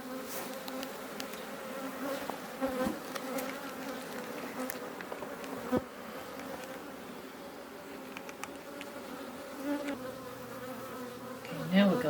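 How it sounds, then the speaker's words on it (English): Honeybees buzz steadily in an open hive box with the queen excluder lifted off, a dense, continuous hum from many bees close by, with faint handling knocks now and then. "Taking the queen excluder off, there was a lot of bees in here."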